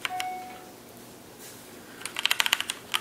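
Brisk typing on a Tt eSPORTS Poseidon Z mechanical keyboard with brown switches: a few clacks at the start, a quiet stretch, then a quick run of crisp keystrokes near the end, close and clear with no talking.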